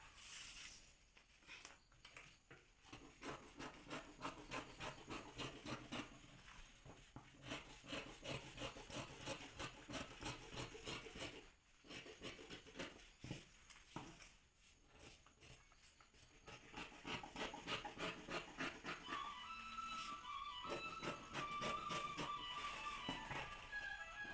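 Scissors cutting cloth for stitching, a long run of quiet, close snipping and rubbing with a steady, rapid rhythm.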